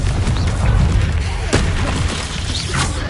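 Confringo blasting spell cast in Hogwarts Legacy: dense, loud booming blasts with a sharp crack, set against busy game noise without clear talk.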